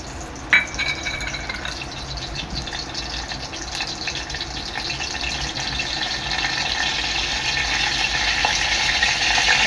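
Mustard seeds and curry leaves crackle and spit in hot oil for a tomato curry tempering, a steady close hiss with scattered pops after a sharp drop-in at the start.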